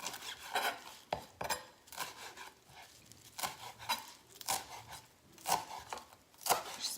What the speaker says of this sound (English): now we're gonna cut parsley, dill, and thyme. Just cut like this.